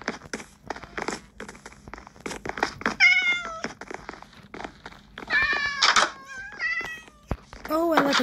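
Cats meow repeatedly in the Minecraft video game, a string of short, fairly clear mews in several bursts, mixed with clicking and tapping and a person talking through much of it.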